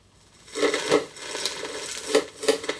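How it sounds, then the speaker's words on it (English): Brown sugar and butter stirred in a saucepan, a spoon scraping the pan bottom in a few separate rasping strokes with short pauses between, close and fairly quiet, no voices. "It's important in this step that we continue to mix the bottom of the pan"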